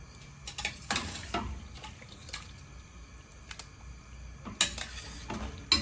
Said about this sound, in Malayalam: ഇതിൻ്റെ ഗ്രേവി ആദ്യം അങ്ങോട്ട് ഒഴിച്ചു കൊടുക്കാം. ഇറച്ചിയും കൂടെ കോരി ഇതിലോട്ട് ഇട്ട് കൊടുക്കും